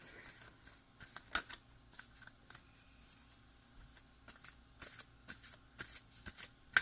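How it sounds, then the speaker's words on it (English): Tarot cards being shuffled close up, a quick rhythmic riffling and flicking that repeats in short bursts, with no talking. "we're just going to keep shuffling"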